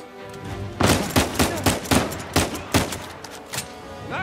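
Rapid gunfire in Uncharted 4, about a dozen loud, close shots in a loose, uneven rhythm, with no talking over it.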